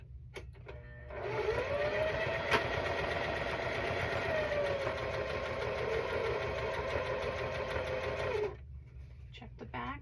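A sewing machine back stitching on a cross stitch quilt block runs in a steady, continuous whir for about seven seconds, close and fairly loud, with a brief quieter stretch before and after.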